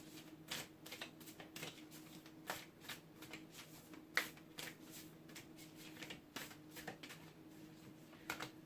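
Tarot cards shuffled and drawn for a Libra reading, giving a quiet, steady run of soft riffling flicks and light taps with a few sharper snaps, no talking over them.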